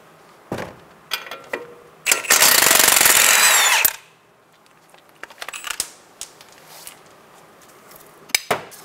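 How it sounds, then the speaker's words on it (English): A 19 mm wrench and socket loosening a strut-to-knuckle bolt on a 2012–2016 Subaru Impreza front end: a loud, sustained burst of rapid impact-tool rattling for about two seconds, framed by scattered metallic clicks and clanks, with no talking. "using a 19 millimeter wrench to hold the head of the bolt and a 19 millimeter socket, we're gonna remove the strut knuckle bolt"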